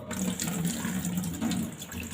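Water pours steadily into a kitchen sink drain after salt has been sprinkled in, a continuous gurgling splash at moderate level with no pauses.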